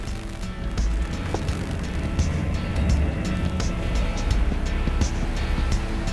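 Steady engine rumble of a 4WD vehicle starting a snatch-strap recovery, wheels turning under load, continuous and fairly loud with broadband noise and faint outdoor clatter, no talking.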